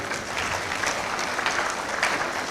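Audience applause at a University of Ghana congregation ceremony for the College of Basic and Applied Sciences, a steady, dense clapping from a large crowd lasting throughout.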